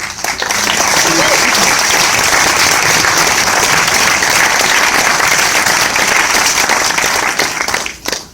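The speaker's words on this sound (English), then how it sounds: "the audience will join me in applauding" An audience at a film Q&A breaks into loud, sustained applause, a dense wash of clapping that holds steady for several seconds before tapering off at the end.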